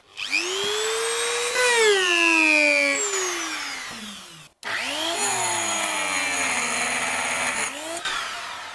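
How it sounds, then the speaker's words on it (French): A portable power station's cooling fan spins up with a steady whirring whine that rises and falls in pitch, cuts out briefly, then resumes at a slightly different tone, fairly close and without speech. "Donc là on a entendu quelques secondes le ventilateur"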